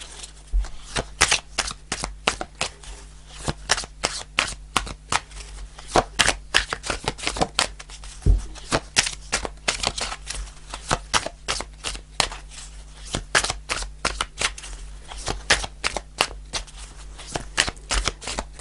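Tarot cards are shuffled continuously at close range, a rapid stream of crisp riffles and slaps that keeps going without pause.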